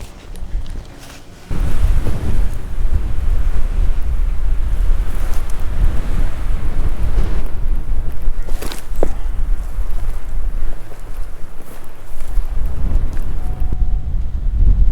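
Wind in the Oregon desert buffets the microphone with loud, continuous rumbling gusts throughout, after a quieter opening second.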